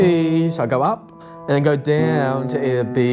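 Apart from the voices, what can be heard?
None of the usual background noises is heard.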